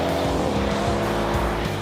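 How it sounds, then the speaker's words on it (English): Mercedes-AMG GLC63 S with its 4-litre twin-turbo V8 snarls loudly and close, rising and falling through quick revs with a harsh, throbbing edge. "That fabulous 4-litre twin-turbo V8"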